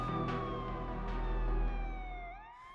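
An ambulance siren wails as one continuous, loud tone that slowly falls in pitch, then trails off near the end, heard alone over a low engine rumble.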